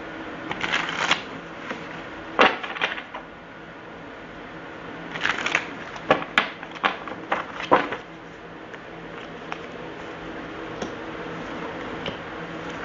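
A Voodoo Tarot deck is shuffled up close in several separate bursts of crisp riffling and clicking, with quiet pauses between them and no talk.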